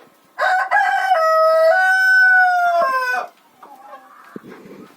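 A rooster lets out one long, loud crow close by, lasting about three seconds, followed by softer clucking and quiet background sounds.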